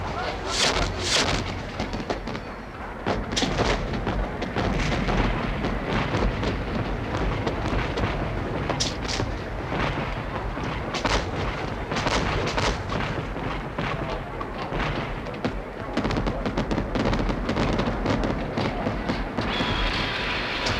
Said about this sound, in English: It begins with the greatest firework display in Europe.